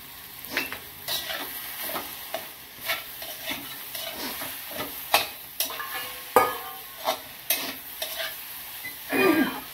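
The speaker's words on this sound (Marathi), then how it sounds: "पाव चमचा हळद टाकायची आणि ही फुलाची भाजी त्यामध्ये परतून घ्यायची" Hadga flower vegetable with turmeric being sautéed in a pan at home: a steady sizzle with repeated scraping stir strokes and spoon clicks against the pan, close and fairly loud, with no talking.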